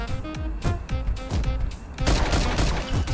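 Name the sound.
gunshots in Milkman Karlson video game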